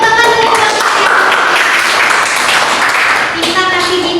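A classroom of students claps together during a micro-teaching lesson on cube and cuboid volume, a dense steady burst mixed with overlapping voices and chatter throughout.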